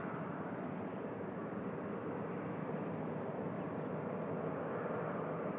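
Steady, distant jet engine rumble from aircraft at Bangkok airport, a low constant drone held at a faint level throughout.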